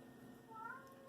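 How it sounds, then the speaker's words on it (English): A cat meows once, faintly and somewhat distant, a brief drawn-out tonal call over a steady background hum in a quiet room. "if you hear meowing in the background"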